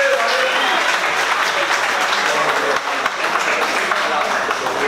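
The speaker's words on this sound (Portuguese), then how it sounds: "palmas para os dois" Audience applause for two boxers at an amateur boxing event, dense and steady clapping filling the whole stretch, loud and close with a brief dip near the middle.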